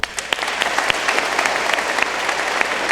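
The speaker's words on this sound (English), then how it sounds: "Let's give them a round of applause." Audience applause at a school 8th grade graduation ceremony: many hands clapping in a dense steady patter, with a few louder close claps standing out, continuing throughout at strong volume without speech.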